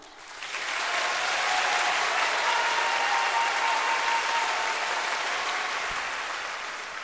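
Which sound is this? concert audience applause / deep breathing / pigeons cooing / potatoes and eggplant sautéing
concert audience applause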